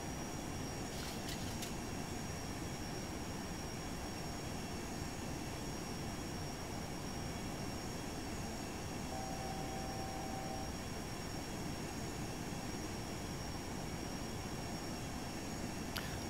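Aircraft engine thrust in the X-Plane 11 flight simulator, a steady, broad engine roar and rumble with a faint high whine, continuous and even throughout with no talk.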